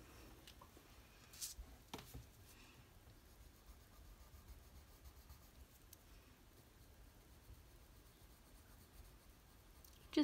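Soft, faint scratchy strokes of a watercolor pencil on paper, with a few brief louder taps, close and quiet with no talking.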